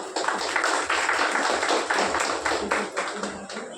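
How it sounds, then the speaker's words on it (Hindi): Audience clapping at a Brahma Kumaris Guru Purnima celebration in Kalwa, a dense, steady wash of many hands filling the room, with voices mixed in beneath. "एक और बार ताली बजाइए"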